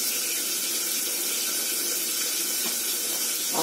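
Drinking water is poured out of a bottle with a continuous, close, hissing splash that stays steady and fairly loud throughout, with no talking.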